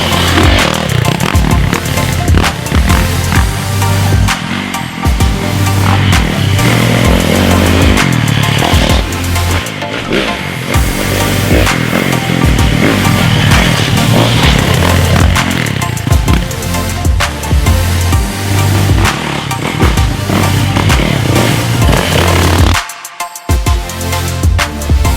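A 2019 Yamaha YZ450FX dirt bike is ridden hard on motocross and woodland terrain, its engine a loud, raspy buzz that rises and falls through the throttle, with only a brief dip near the end.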